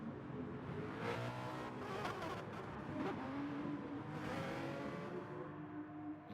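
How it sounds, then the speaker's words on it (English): A Mazda in a racing video game accelerates with a continuous, buzzy engine note as the revs rise and fall through gear changes, with faint tire squeal, quiet and under no talk. "I hear one car. It sounds like a Mazda."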